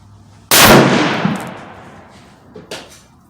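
A single loud, close rifle shot from a Tikka T3X Lite deer rifle fitted with a Leupold scope at a 100-yard range, with a sharp crack and a long rolling echo that fades over about two seconds, then a couple of faint knocks.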